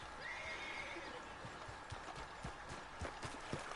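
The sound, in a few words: horse neighing and hooves, video game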